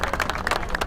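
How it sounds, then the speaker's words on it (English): Crowd at a Freedom Convoy USA (People's Convoy) gathering claps for a volunteer, a brief burst of dense, close applause with no talk over it. "can we give him a big round of applause for volunteering?"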